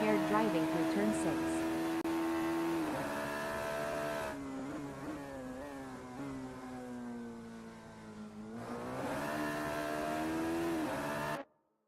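A Radical race car engine in a sim racing game holding a steady high drone through turn 6, dipping in pitch as it slows for the corner and climbing again as it accelerates out before cutting off abruptly.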